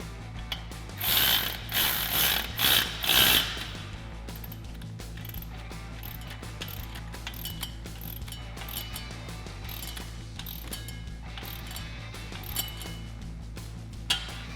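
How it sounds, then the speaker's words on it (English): Ratchet turning a 14mm socket to snug down an exhaust tip clamp on a 2015-2020 Ford F-150 Flowmaster FlowFX dual exhaust, several quick bursts of clicking up close, then quieter handling sounds. "snug it down using our 14mm socket"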